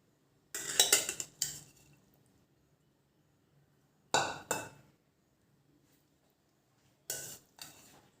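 Soya bhurji with lemon juice, cashews and chana dal stirred in a pan, giving three separate bursts of scraping, clinking spoon-on-metal, each lasting about a second with quiet gaps between.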